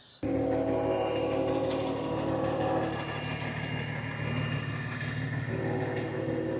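A Toyota A90 Supra engine with a carbon fiber intake catches with a sudden start, then runs loud and steady with a rumbling idle and shifting revs, close by.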